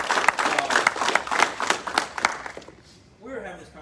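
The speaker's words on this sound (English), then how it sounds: "Big round of applause." A crowd claps at a Brazilian jiu-jitsu purple belt promotion in an Arlington, Texas academy, giving dense applause with a few sharp cheers mixed in. The clapping stops after about two and a half seconds, and faint voices follow.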